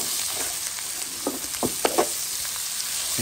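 Tomato-less shrimp and greens stew sizzles in a pot just after salt goes in, giving a close, steady frying hiss with small scattered pops and no talking.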